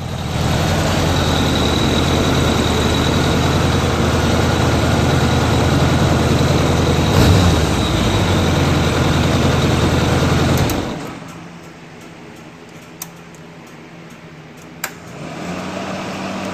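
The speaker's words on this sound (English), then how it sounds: "I'm gonna shut the bike off." A 1986 Honda Goldwing GL1200 motorcycle engine with oil burning in cylinder one idles at close range, a steady, even rumble for about eleven seconds before it is switched off, leaving quiet room tone with a couple of small clicks.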